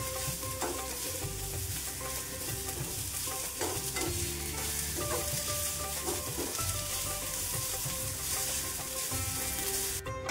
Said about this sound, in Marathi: हे आपल्याला छान परतून घ्यायचं आहे असं खरपूस। मीडियम गॅसवरच परतायचं आहे सगळे।